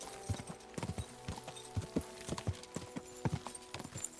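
Horse hooves gallop in the video game Kingdom Come: Deliverance II, a quick rhythmic clip-clop of steady beats that stays moderately close and clear, with no talk over it.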